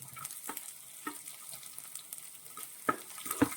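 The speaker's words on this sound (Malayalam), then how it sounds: "ഇത് രണ്ടും നമ്മൾ നന്നായിട്ടൊന്ന് മൂപ്പിച്ചെടുക്കണം." Chopped ginger and garlic with fenugreek seeds fry in hot oil for a pickle, giving a faint, steady sizzle broken by occasional stirring clinks and scrapes, with no talking.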